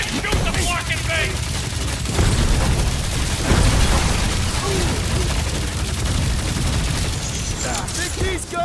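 Rapid bursts of blaster gunfire and impacts in the Guardians of the Galaxy video game, firing continuously throughout with booming hits, under frequent character speech.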